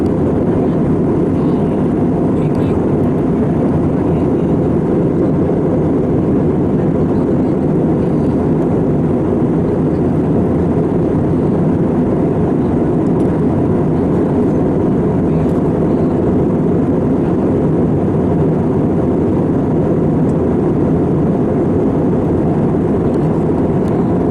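Steady, loud airplane cabin noise on a short commercial flight climbing through clouds toward roughly 27,000 feet, a continuous engine and airflow roar holding evenly throughout with no talk.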